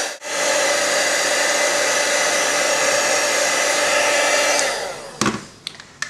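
A heat gun blows hot air steadily over craft ink on a footprint card, a loud continuous whoosh that holds for about four and a half seconds, then cuts off, leaving a few small clicks and handling noises.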